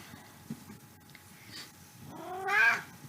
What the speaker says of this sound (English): I'm not sure if you can hear my kitty